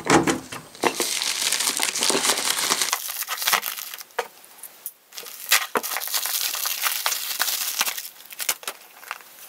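A bag is pulled out of a jewelry box and handled up close, giving loud crinkling and crumpling plastic rustles in bursts with short pauses between them and no voices.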